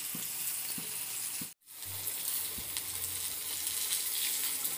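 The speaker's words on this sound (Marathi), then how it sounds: "इथे मी सगळे फिशचे पीस टाकून घेतलेत आणि छान आता एका साईडने आपण त्यांना" Pomfret fish pieces shallow-frying in oil in a pan: a steady, bright sizzle throughout, briefly cut off for a moment, with a few light clinks and knocks, close and continuous.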